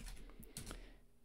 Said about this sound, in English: So to do that, what we need to do is type